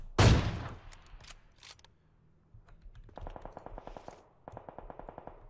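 Gunfire in the mobile battle royale game PUBG Mobile: one loud, sharp shot opens, followed by scattered single shots and then two rapid automatic bursts, crisp and close with no talking.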